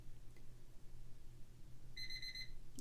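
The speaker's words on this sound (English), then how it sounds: "And there's our timer." An exercise timer alarm goes off near the end: a quick series of faint electronic beeps over a quiet, low-hiss room background.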